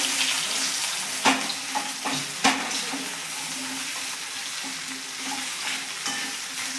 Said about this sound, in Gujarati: હવે આપણે મોઠિયાને એની અંદર એડ કરી લઈશું આને આપણે સરસ રીતે બધું મિક્સ કરી લઈશું